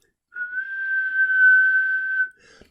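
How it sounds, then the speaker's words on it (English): A single pure, whistle-like tone holds at a constant pitch for about two seconds, clear and isolated against silence, followed by a faint click. "it would sound more like a whistle."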